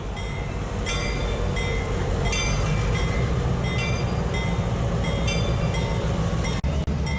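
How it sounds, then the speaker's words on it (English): An SW8 switcher locomotive, number 800, built in 1952 and in Delaware Lackawanna Western livery, rolls past with a loud continuous rumble, engine drone and clattering wheels, close and steady throughout. "It passes number 800, an SW8 built in 1952 with a Delaware Lackawanna Western."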